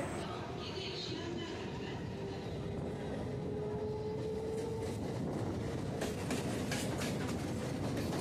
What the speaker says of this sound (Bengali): ডান পাশে ট্রেনটি বেঁকে যাচ্ছে বারাসাত লাইনের দিকে।